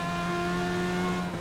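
A Legends race car at full throttle on a lap at Southern National Motorsports Park, its engine droning in a steady, loud, sustained tone with little change in pitch.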